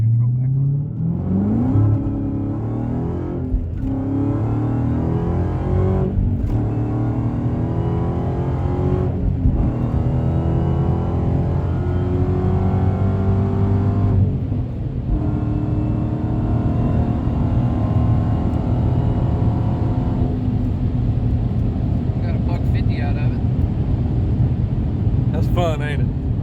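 Acura CL with Eibach pro kit suspension accelerating hard on pavement, engine revving up through rising pitch in repeated gear pulls, loud and close from inside the car, with brief shift gaps.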